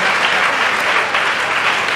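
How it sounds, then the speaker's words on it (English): An audience applauds a choir at an evening aarti celebration, a dense, steady wash of clapping from many hands filling the room without pause. "Let's give another round of applause to the choir for the beautiful renditions"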